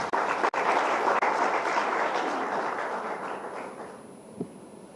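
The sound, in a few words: audience applause at conference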